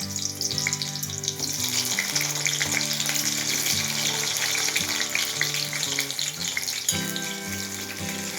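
Thickly cut onions frying in hot oil in a wok, a loud dense crackling sizzle that runs unbroken, with light stirring noises and low background hum.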